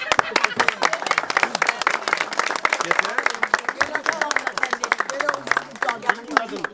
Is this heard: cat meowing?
no